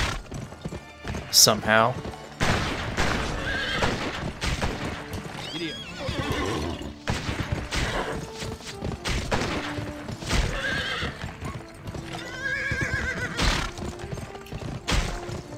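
Horse hooves clip-clopping and loud whinnies in the video game Gun, the galloping steady beneath frequent talk, with a sharp neigh standing out early.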